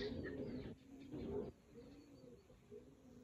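A young blue bar racing pigeon coos softly in a few low, throaty bursts, faint and close, with quiet pauses between the calls.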